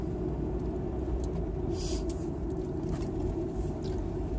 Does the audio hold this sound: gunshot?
no